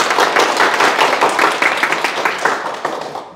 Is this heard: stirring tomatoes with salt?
no